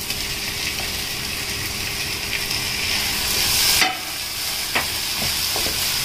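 Tomatoes and onions sizzle in a hot pan for biryani, a steady low frying hiss broken by a few sharp scrapes and clinks of stirring, close and with no talk.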